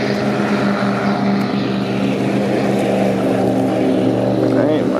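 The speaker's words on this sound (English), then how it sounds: "there's a guy on his jet skis right there" Jet ski engine droning out on the water off Staten Island, a steady continuous hum that holds at a fairly loud level throughout with no clear breaks.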